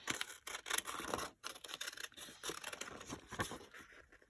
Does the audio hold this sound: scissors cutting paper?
yes